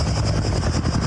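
Firefighting helicopter in Greece, its rotor and engine a loud, steady, close drone that fills the short stretch without any talk.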